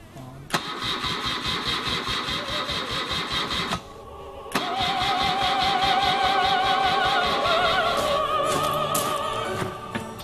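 A freeform custom motorcycle engine cranks without catching, a loud, close, rapid mechanical churning in two long bursts separated by a brief pause, the second burst carrying a whirring whine.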